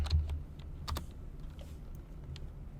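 A few scattered keystrokes on a computer keyboard sound close and soft, with short gaps between them over a quiet room hum.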